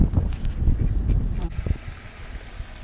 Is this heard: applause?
no